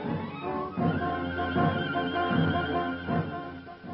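A horse neighs loudly and close in a 1946 Western film, a shaky, drawn-out whinny repeated in several bursts across a few seconds.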